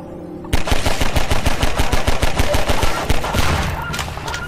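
Rapid automatic gunfire from Half-Life 2: dense, loud bursts of shots fire in a steady rapid rhythm for about four seconds, starting abruptly after a quiet lead-in.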